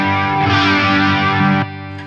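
A Yamaha GW10 multi-effects pedal pushes an electric guitar through its distortion block, giving a loud, sustained chord with a thick, saturated tone that rings for over a second and a half, then drops to a quieter decaying tail, with no voices.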